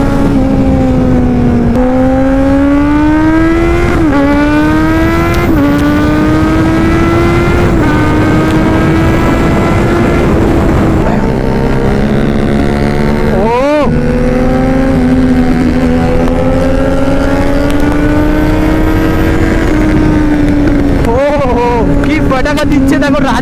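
Kawasaki Z900 motorcycles ride at high speed on an open road, the engines droning loudly and rising in pitch through gear changes, with wind rush throughout and voices talking over it.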